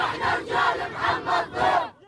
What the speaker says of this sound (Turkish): Gazze'liler Hamas savaşçılarını ellerinde Filistin bayrakları ve tezahüratlarla karşıladı.